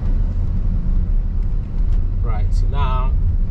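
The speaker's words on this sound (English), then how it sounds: "there's a lot of cars on the road today" Steady low road rumble and engine drone heard from inside a moving car cruising around Portishead in traffic, continuous and fairly loud, with a brief voice-like tonal sound near the end.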